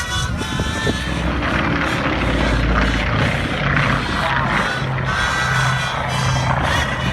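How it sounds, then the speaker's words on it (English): Grumman C-1 Trader twin-piston-engine carrier transport aircraft making a high-speed low-altitude pass at an airshow, a loud steady engine and propeller roar sustained throughout without talk. "Here comes a high-speed, low-altitude pass by our C-1 Trader."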